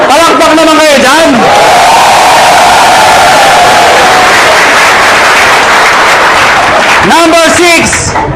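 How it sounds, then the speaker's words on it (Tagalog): A crowd at an Aimglobal business opportunity presentation erupts in sustained loud applause and cheering, framed by amplified speech from a presenter before and after. "Palakpak naman kayo dyan."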